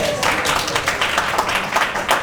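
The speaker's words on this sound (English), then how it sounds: "I think I deserve a better round of applause." Audience at a formal evening gala for global leaders applauds steadily, a dense patter of many hands clapping close by, with a brief voice mixed in.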